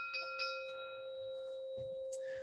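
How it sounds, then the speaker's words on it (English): A 528 hertz chime rung once, a clear sustained tone with a brief metallic attack that hangs and slowly fades, quiet and alone in a still room. "I've got this chime. It's 528 Hertz"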